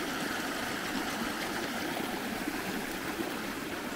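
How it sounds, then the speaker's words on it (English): Water flowing steadily in a permaculture pond, a continuous close-up rushing trickle like a small stream, loud and unbroken throughout with no voices. "how to get the water to flow"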